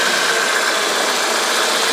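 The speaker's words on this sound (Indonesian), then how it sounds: "Kita dengarkan suara mesinnya coba bagaimana. Starter, bro." A 1995 Toyota Corolla with a 4A engine idling steadily after being started, a smooth continuous mechanical hum held at an even level with no knocking.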